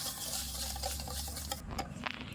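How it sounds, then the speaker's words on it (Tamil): Sugar is stirred by hand into homemade cake batter, making soft, wet, continuous scraping and squelching close by, with a few small clicks near the end. "இப்போ வந்து அரை கப்பு சர்க்கரையும் இதில் போட்டுடலாம் போட்டு நல்லா கலக்கிக்கலாம்"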